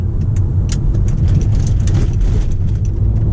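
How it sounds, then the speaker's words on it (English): Heavily tuned 1.8T Stage 2 VW Golf accelerating hard, a loud steady engine and turbo roar filling the cabin with continuous rumble and no pauses. "as soon as you put your foot down, the turbo is just so loud"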